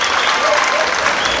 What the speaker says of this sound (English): Let's give him a welcoming round of applause one more time.